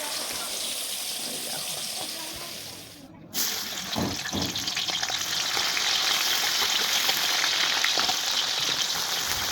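Potatoes fry in a pan with a loud, continuous sizzle and crackle, briefly dipping before returning stronger with occasional stirring scrapes as frying continues close by.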